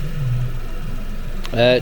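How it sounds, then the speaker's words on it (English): A 2013 Ford Focus 1.0L EcoBoost engine idles steadily with a low, even hum close by, followed near the end by a short burst of a voice or tone over the running engine. "This Ecoboost is now back up and running. While it's ticking over, we're going to be keeping an eye on some live data."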